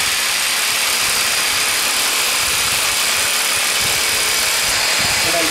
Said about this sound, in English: turn your saw on